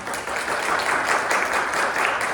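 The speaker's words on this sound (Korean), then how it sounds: "뜨거운 박수로 환영해 주세요" Audience applause welcoming an academic-track panelist at a Korean ASEAN strategy forum hosted by Korea University and the Chung Mong-Koo Foundation: dense, steady clapping from a crowd throughout, without talk.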